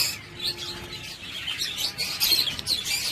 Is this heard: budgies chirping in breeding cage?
yes